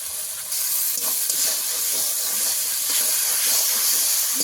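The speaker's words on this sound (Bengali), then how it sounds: "কষানো হয়ে গেছে মশলা কত তেল ছাড়তে শুরু করে দিয়েছে" Spice masala fries in oil in a pan for a bhetki fish curry with kochu loti, a dense, even, close hiss and sizzle that holds steady throughout with faint crackles.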